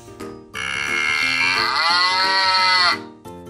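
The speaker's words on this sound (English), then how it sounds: "Then we have a calf." A calf gives one long, loud, drawn-out moo with a rising and falling tone. It stands alone and close, with short quieter bleats before and after it.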